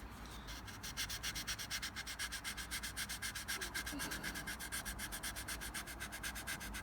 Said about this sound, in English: And we're just sanding away on that spot